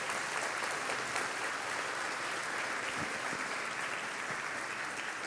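A church congregation claps during a Sunday celebration service, a steady wash of many hands applauding evenly at moderate volume, sustained without a break.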